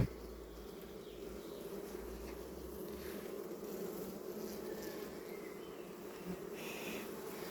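A dense, steady hum of honey bees buzzing inside a hive, low and continuous, with no voices.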